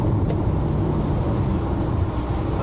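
A car cruises at about 100 km/h on a wet highway in the BC Interior behind a truck, giving a steady, loud road and engine rumble with constant tire noise throughout.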